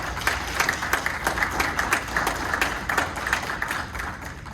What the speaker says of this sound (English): I want to acknowledge and appreciate Delaney, Crystal, and Andrew for all of their efforts and all of their work with a nice round of applause.